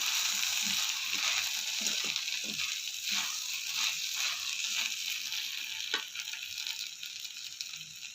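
Okra stir-fry with chili powder is stirred in a pan, with a constant frying hiss and a quick run of scraping, tapping strokes from the spoon, then steadier sizzling.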